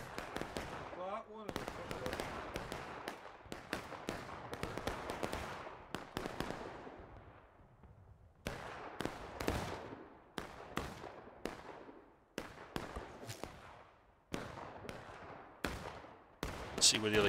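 Civil War cannon artillery fire in the online game War of Rights, during a historical rules event: repeated sharp, booming shots and impacts in uneven bursts, some near and some farther off, with someone talking over them.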